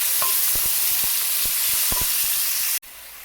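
Onion and garlic frying in a pan give a constant hissing sizzle with several sharp clicks of a spatula stirring. The sound cuts off abruptly near the end.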